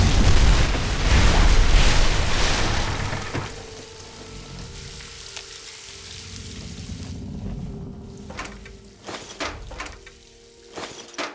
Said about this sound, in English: It looks like an explosion should do the trick.